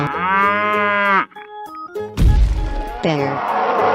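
A cow moos in a long, loud, harmonic call, followed by brief electronic tones, a heavy thump, and a second shorter moo, all close and clear.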